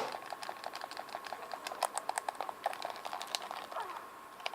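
Computer keyboard keys are tapped repeatedly in a quiet room, a rapid uneven series of faint clicks with no talking.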